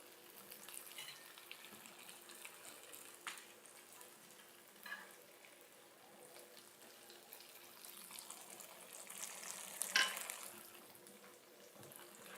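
A cheesy tortilla frying in a pan that isn't quite hot enough, giving a soft, low sizzle with faint scrapes and a brief louder clatter near the end, quiet and close.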